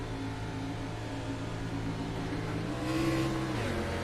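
Engine drone of sim-racing video game cars at Charlotte holding a steady pitch on a restart, then rising as they accelerate hard to green flag racing, loud and close, with no voices.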